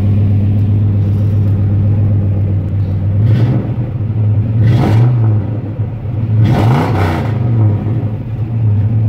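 A Buick wagon fitted with Dodger 392 mufflers on small stock pipes idles with a deep, steady rumble, then revs up in a few short bursts with a poppy exhaust note, loud and close, with no talking.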